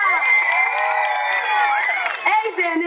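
A live audience cheers and whoops with a dense, bright roar of many voices, including shrill children's shouts, sustained at full strength close to the listener before breaking into scattered calls.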